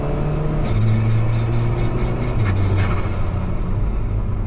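An Alfa Romeo 4C Spider engine drones loudly from inside the cabin, its pitch stepping down and then rising through rough, abrupt gearshifts, with steady road roar under it.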